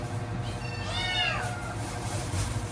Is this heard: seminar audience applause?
no